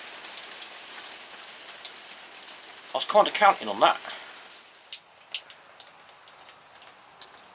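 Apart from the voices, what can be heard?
rain falling outdoors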